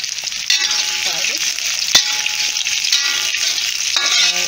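Food sautéing in a pan for macaroni chicken cheddar, a steady close sizzle and frying hiss with a few stirring scrapes and a light metallic clink, no talk.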